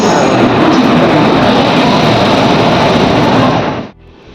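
A loud, close express train roars past at speed with a constant rushing rumble, then cuts off abruptly near the end.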